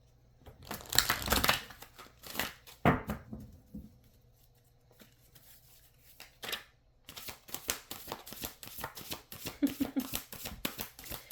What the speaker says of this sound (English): Let me just reshuffle this 1 second, guys.